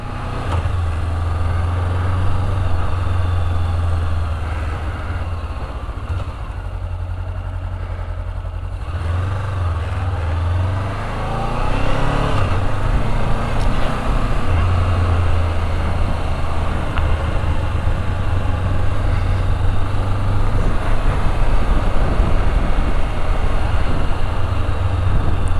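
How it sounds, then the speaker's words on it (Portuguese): Honda CB 500X 2019 motorcycle engine rumbling steadily while riding, a continuous loud drone with wind noise that swells as the bike picks up speed, without any talking. "esses primeiros minutos, tio Chico fica calado só sentindo a moto e vocês vão ouvindo o ronco do motor"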